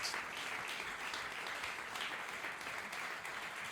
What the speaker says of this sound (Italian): intanto si beccano un altro bell'applauso di quelli belli calorosi